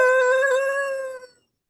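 A voice imitates a police dog's wolf howl, sustained and wavering for over a second, from a performance where the dog stood in for the wolf during a flute solo. It sounds alone and close, then cuts off.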